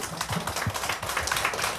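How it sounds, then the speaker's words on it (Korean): A church congregation applauds in thanks: a dense, steady wash of many hands clapping together, fairly loud and sustained with no pauses. "하나님께 한번 박수, 감사의 박수 올려드릴까요?"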